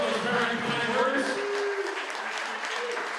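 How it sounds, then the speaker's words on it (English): Wedding guests at a reception at Nanina's In the Park in Belleville, NJ give a short burst of applause after a toast, moderately loud clapping that tapers slightly over about three seconds. "Nice round of applause for those very kind words"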